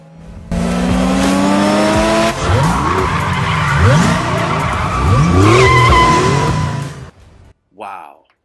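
Roaring race car engines in the video game The Crew 2 rev and shift gears while tires squeal in repeated skids, loud and close, ending in a brief pause.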